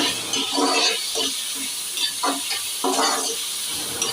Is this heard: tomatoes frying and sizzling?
yes